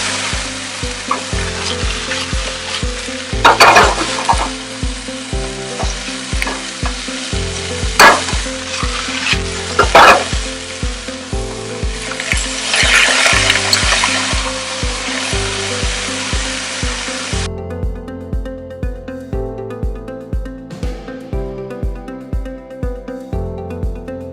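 Carrots and bok choy stir-fry in a hot pan with a little oil, giving a loud, steady sizzle with stirring scrapes and clatters. The sizzle cuts off partway through and softer rhythmic stirring carries on.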